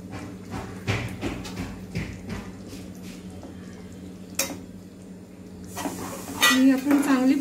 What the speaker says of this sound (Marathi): आणि आपण चांगली परतून घेऊया